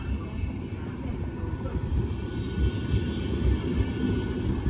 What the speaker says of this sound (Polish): fajne, fajne koleje fińskie